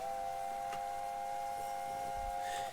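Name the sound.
LNER A4 steam locomotive whistle in video game Train Simulator Classic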